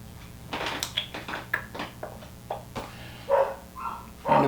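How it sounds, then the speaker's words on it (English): A dog barks in several sharp, separate bursts at close range, spread across a few seconds against a quiet indoor background. "Obviously he's barking"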